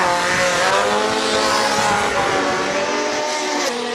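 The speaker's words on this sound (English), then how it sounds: "Number 80 goes up and takes on the hill. It sounds insane." A single-seater race car at the Cape Town hillclimb screams up the hill, its engine wailing at high revs with rising gear-change tones, loud and sustained throughout.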